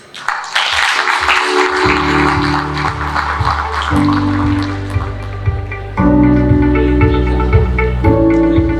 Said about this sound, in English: let us give a warm hand of applause to our guest speaker